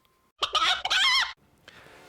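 A single chicken gives a short, loud, nasal cluck-like call, close and clear, followed by a fainter tonal tail.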